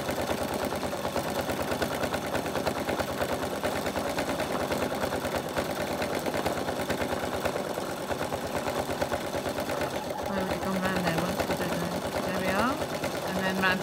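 A sewing machine doing free-machine embroidery of a vintage caravan runs continuously with a fast, even mechanical chatter, close and steady throughout, with a voice briefly audible near the end.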